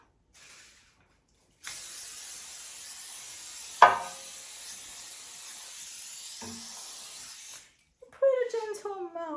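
Non-stick cooking spray hissing from a can into a cake pan, a faint steady spray of several seconds with a small knock partway through, and a voice briefly audible afterward.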